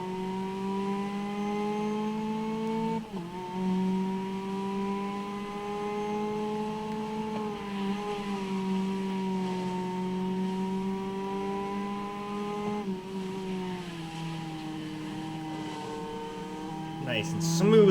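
A racing car engine in GRID Legends holds a steady, loud tonal drone under light throttle, pitch rising and dipping through gear shifts and a smooth corner, with commentary talk over it throughout.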